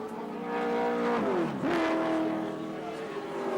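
BMW touring car racing at Wanneroo circuit in 1984, its engine note climbing steadily, dipping sharply on a downshift and rising again, loud and close, with a commentator talking underneath.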